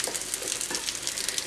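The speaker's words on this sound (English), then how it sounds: "the baking tray is very hot, so the base is all sizzling away nicely" A lentil pie base, made with nutritional yeast, sizzles after being poured into a very hot baking tray, giving close, steady crackling and spitting with no talk.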